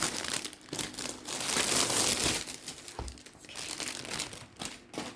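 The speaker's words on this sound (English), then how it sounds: "sorry if the plastic sound irritates you" Plastic packaging crinkles and rustles continuously up close, with uneven bursts of crackling throughout and no voices.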